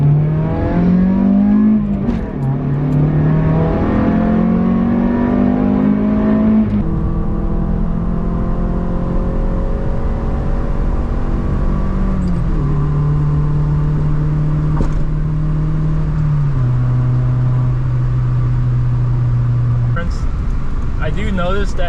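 An Acura RSX base model with a repaired intake manifold runner fault revs loudly and continuously up through its gears, the engine note climbing steadily in pitch, dropping at each shift and climbing again.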